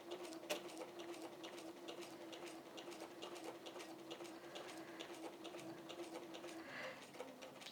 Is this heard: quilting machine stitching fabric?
yes